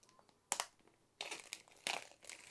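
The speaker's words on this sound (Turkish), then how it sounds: "Şöyle kenarlarından jelatinimizi açıyorum." Plastic film is cut and peeled from the edges of a realme C11 phone box, giving several short, close crinkling and crackling bursts separated by brief quiet gaps.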